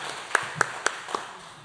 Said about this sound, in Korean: 우리 격려의 박수 하도록